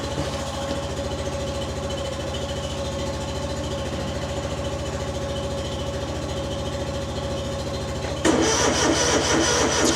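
A cold engine on a log-hauling setup cranks and catches, then settles into a steady, rumbling idle close by, growing louder and rougher near the end.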